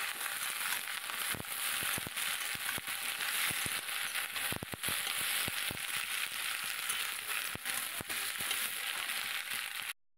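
Fish curry with spring onions sizzles and crackles steadily in a pan, a dense frying hiss broken by sharp pops and stirring clicks, with no voices.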